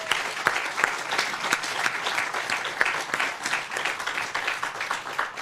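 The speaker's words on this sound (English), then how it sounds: "Let's give them a round of applause." Applause from an audience at a New Jersey state announcement event honouring environmental agency staff, steady dense clapping sustained for several seconds at a moderate distance.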